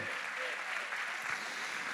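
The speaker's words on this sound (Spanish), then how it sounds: "Por lo menos un ruido de aplauso, algo." Scattered clapping from a small group in a church service, steady and moderately loud throughout, with a faint murmur of voices underneath.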